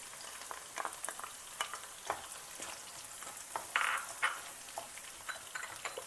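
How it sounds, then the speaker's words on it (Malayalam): Garlic and sliced ginger sauté in a pan for sardine pickle, a quiet continuous sizzle broken by irregular light scrapes of a stirring spoon, no voices. "വെളുത്തുള്ളി ഒന്ന് വഴറ്റി വരുമ്പോൾ അതിലേക്ക് കാൽ കപ്പ് ഇഞ്ചി നീളത്തിലരിഞ്ഞതും"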